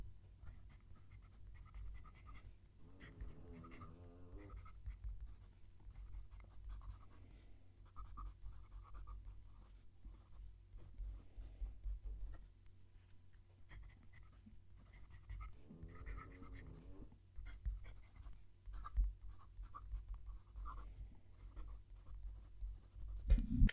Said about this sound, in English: Let's move the mic down to the page so you can hear the pen write.